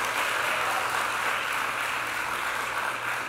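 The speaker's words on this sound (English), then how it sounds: "let's give a round of applause to Commissioner Bray as well" Audience applause for Commissioner Bray at a New York flood relief briefing with Governor Kathy Hochul, a dense, even patter of clapping held steady throughout with no talk.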